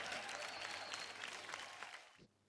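A studio audience on a Marathi TV dance competition show gives loud, dense, continuous applause that stops abruptly near the end.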